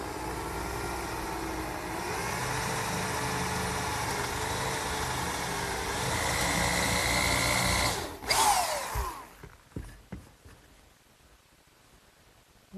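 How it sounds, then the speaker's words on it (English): A power drill with a brad point bit whirs steadily for several seconds boring a dowel hole in wood, then winds down and stops, followed by a few short clunks and knocks. "now it's time to drill a hole for the oak dowel"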